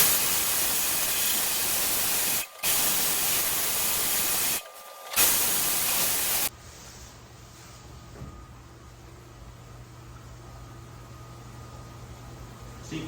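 A Porsche engine part gets glass bead vapor blasting: loud, steady hissing spray in bursts broken by two short pauses, then it cuts off to a quiet room hum.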